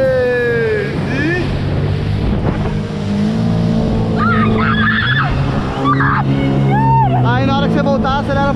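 A jet ski engine whines and rises in pitch as it accelerates across water, loud and close, mixed with wind buffeting the microphone while people talk over it.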